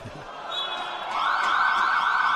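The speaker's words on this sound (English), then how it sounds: "might have heard that buzzer" A substitution buzzer at a wheelchair rugby celebrity match sounds one sustained electronic tone that grows louder partway through and holds steady, with arena ambience behind it.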